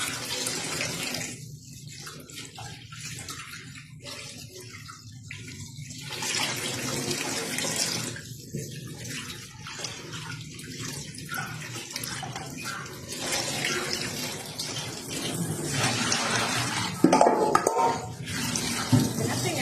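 Tap water runs steadily into a sink while raw tilapia is washed by hand, a continuous close splashing and gurgling with occasional clinks of dishes near the end.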